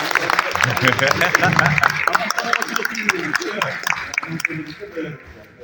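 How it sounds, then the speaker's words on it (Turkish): Guests at a civil wedding ceremony in Istanbul clap together in a steady burst of applause mixed with chuckles and chatter, fading out gradually toward the end. "O zaman alkışlayalım arkadaşlar"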